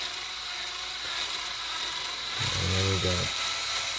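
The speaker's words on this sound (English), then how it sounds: "we're gonna tap and drill right now" A lightly oiled drill bit bores slowly into the centre post of a Hot Wheels die-cast car. The short, close whirring burst lasts about a second and follows a brief spoken remark.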